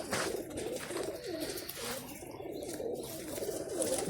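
Pigeons kept in netted coops coo softly and repeatedly, a low rolling burble from several birds nearby outdoors.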